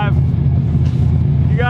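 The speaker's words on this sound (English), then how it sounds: "I gotta leave the truck running." A steady, loud low rumble from the idling engine of a 1000HP Chevrolet Silverado drift truck, being revived after sitting abandoned, holds constant throughout with a faint voice over it.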